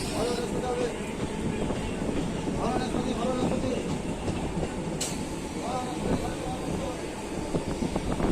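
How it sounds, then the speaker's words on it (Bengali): A suburban passenger train departing a station on the Howrah–Tarakeswar line rumbles steadily with rhythmic rolling clatter and a brief high squeal, continuous and fairly close, with faint voices in the background. "আমাদের ট্রেন ছেড়ে বেরিয়ে যাচ্ছে"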